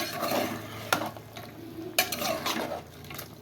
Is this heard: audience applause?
no